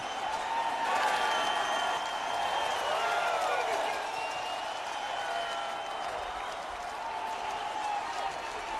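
A stadium crowd of over 14,000 at a 2011 NCAA lacrosse game between Virginia and Syracuse roars and applauds in a sustained, broad wash that swells early and then settles, with a voice carrying over it.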